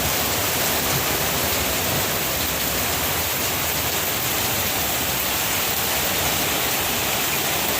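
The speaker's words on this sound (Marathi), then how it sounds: "आज भरपूर जोरात पाऊस आहे." Dense, steady hiss of heavy rain pouring down in Vasai without pause, loud and even throughout with no voices.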